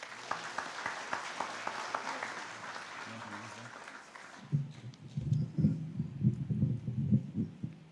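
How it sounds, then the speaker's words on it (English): An audience at a Catholic gathering in Nairobi gives a round of applause to welcome a chairman to the podium, moderately loud and sustained for several seconds, then giving way to someone speaking. "Kindly welcome him with a round of applause."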